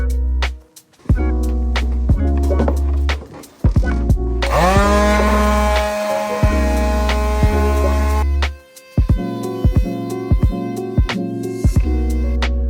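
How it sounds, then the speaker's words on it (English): A handheld power sander on wooden stairs whirs steadily with repeated sharp knocks and scraping bursts, briefly rising to a louder, higher grinding whine in the middle. "And as you can see, I'm using a sander."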